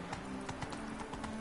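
Steady rhythmic hoofbeats of a horse galloping in the Witcher 3 video game, a quick even clip-clop cadence at moderate level with no talk.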